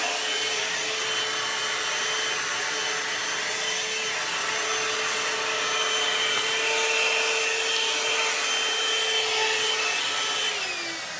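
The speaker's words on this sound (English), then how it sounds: "sometimes I'll accidentally shut off the dryer" A steady, loud motor whine with broadband airflow hiss runs continuously, like a hair dryer held close, with no talking.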